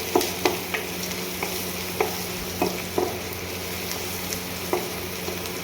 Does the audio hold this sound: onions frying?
yes